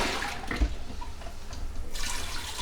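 Cold tap water runs into a kitchen pot for homemade beef stock, a steady splashing rush with a brief low thump early on and a brighter surge of flow near the end.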